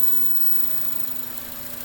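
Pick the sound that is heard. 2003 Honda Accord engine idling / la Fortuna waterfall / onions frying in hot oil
2003 Honda Accord engine idling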